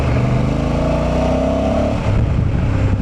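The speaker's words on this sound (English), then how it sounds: "the more I listen to that exhaust," A stock Honda motorcycle exhaust revs loudly and steadily up close, pitch climbing then dropping briefly before the throaty exhaust note picks up again.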